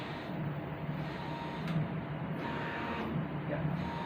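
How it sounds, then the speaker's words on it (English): A 3D printer runs its automatic calibration before printing, a quiet motor hum broken by several repeated short whirring movements, faint and close with no voices. "Do note that it's this printer's feature for it to calibrate itself."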